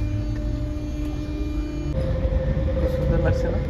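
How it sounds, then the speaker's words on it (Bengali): A train arrives at a station near Paris, its low rumble and electric hum steady and close throughout, with a shift in pitch partway as it draws in. "এই যে আমাদের ট্রেন চলে এসছে"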